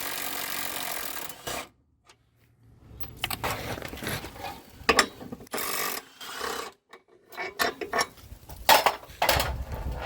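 A hand ratchet works 18 mm bolts loose from the frame of a Nissan Rogue during a frame bushing replacement, giving bursts of close clicking and metallic clatter broken by short pauses.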